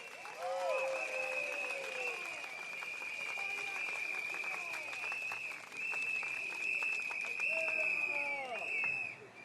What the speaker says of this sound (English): give a round of applause to yourselves for coming down here tonight